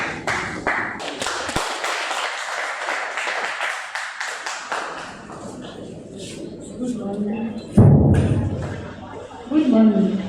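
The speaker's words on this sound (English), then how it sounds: "Please, another round of applause" Seminar audience in a university library applauds, with a burst of clapping and taps that fades as a speaker begins talking over the room.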